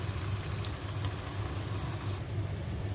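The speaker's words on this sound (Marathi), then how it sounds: "मी आता पुरी टाकून तळून घेते" Puris frying in hot melted ghee give off a steady, dense bubbling sizzle that holds even and continuous close by, with no talking over it.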